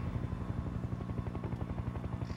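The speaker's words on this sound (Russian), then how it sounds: "У вас на 6 часов вертушка." In the video game Sniper: Ghost Warrior 2, a helicopter's rotor thumps in a steady, fast, loud beat that runs throughout.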